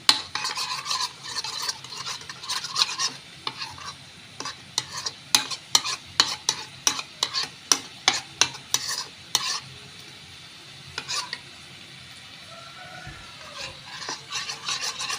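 Noodles for Goan prawn chow chow are stirred and tossed with fried prawns in a hot pan. Rapid rhythmic scraping strokes ride over a steady sizzle up close, then the stirring thins out to a quieter fry.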